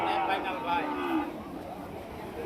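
Cattle lowing at a busy morning livestock market in Rajshahi, a drawn-out moo heard beneath steady crowd chatter and nearby voices.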